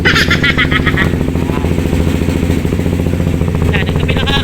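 CFMoto SR300 motorcycle engine fitted with a Villain open pipe, warming up with a loud, close, rapid popping exhaust rumble that throbs steadily throughout.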